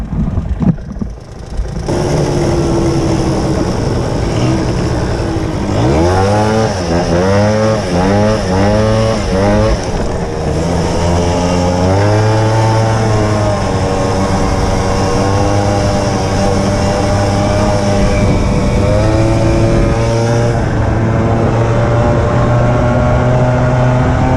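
A Suzuki LT-80 two-stroke ATV is ridden around a golf course, its small engine revving up and down in repeated bursts before settling into a steady drone, loud and close with no talking.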